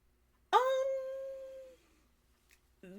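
A giant dog lets out a single loud, close howl that holds steady for about a second before trailing off. A short high yip follows a moment later, then a lower whimpering sound rises at the very end.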